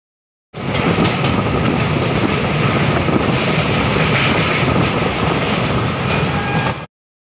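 The 03466 Digha–Malda Town special train pulls into Tamluk station, a loud, close, continuous rumble and rattle of wheels and carriages lasting about six seconds, with no voices.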